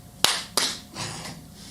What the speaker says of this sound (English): the way we'll switch scenes is we're gonna clap